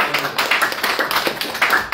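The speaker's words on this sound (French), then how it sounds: "Applaudissements pour le corporel." A church congregation at a Sunday service claps in a quick, steady rhythm, sharp hand claps close and loud with no talking over them.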